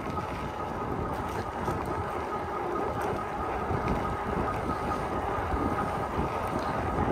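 Wind of about 7 mph buffets the microphone during an e-bike ride near Kyle, Texas, just south of Austin. The roar is constant and broadband, with no talking.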